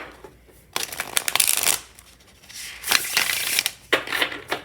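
Linen-finish tarot card deck being shuffled by hand, several bursts of crisp riffling and sliding cards separated by brief pauses, close and clear.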